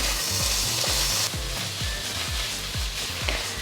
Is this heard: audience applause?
no